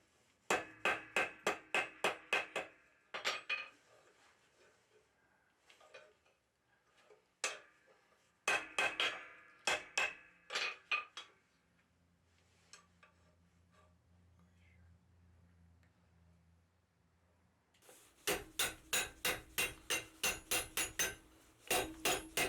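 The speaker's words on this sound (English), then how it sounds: "I'm going to start the ring detail by forging a sharp bend right at the offset" Blacksmith forging a sharp bend at an offset in hot steel on an anvil, rapid bursts of ringing hammer blows, around ten strikes each, separated by quieter pauses with occasional lighter taps, close and loud.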